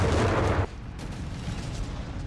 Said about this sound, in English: mortar bearing down the German positions under Tomy.